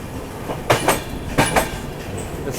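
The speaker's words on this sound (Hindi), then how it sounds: "ये अपना तिरुपति हिसार एक्सप्रेस" The Tirupati Hisar Express, a special train hauled by a WAG 9 locomotive, rolls past close by with steady rumbling and rhythmic wheel clacks over rail joints, heard alone without voices.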